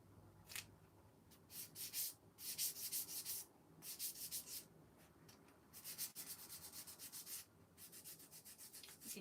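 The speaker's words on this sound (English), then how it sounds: "you can kind of sand it while it's wet" Sandpaper rubbing over a wooden kit manger while its paint is still wet, in repeated short back-and-forth scratchy strokes, close and fairly quiet, with no talking.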